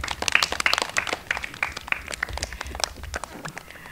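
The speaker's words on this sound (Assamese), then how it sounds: "অনুষ্ঠান আৰম্ভ কৰিবলৈ বিচাৰিছোঁ এটি হাত চাপৰিৰে। অকণমান জোৰে জোৰে হাত চাপৰি বজাই দিলে খুব ভাল লাগিব।" Scattered hand claps from a small audience at a children's day celebration, uneven and fairly sparse, with individual claps standing out over a quiet background.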